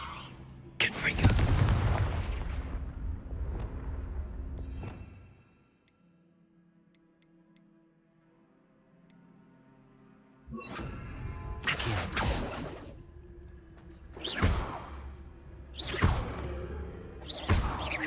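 Spell blasts from the Hogwarts Legacy game, Confringo fire bursts among them, land as loud booming impacts with whooshes in two clusters, separated by a quiet stretch of low ambient hum.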